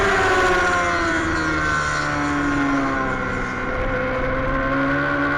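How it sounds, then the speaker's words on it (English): Formula Femme race car engine at a circuit, a sustained high-pitched buzzing drone held steadily at high revs with slight pitch wavering, loud and continuous, with a faint commentator's voice underneath. "Somebody's bouncing off the rev limiter."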